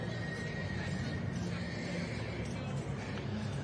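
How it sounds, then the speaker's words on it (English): Horse neighing in a show ring at a crowded agricultural show's main ring, with steady crowd and arena noise throughout and a low-level voice under it. "Gwynwel's Cyledon Wledig, Jesse Penfold's horse just walked past."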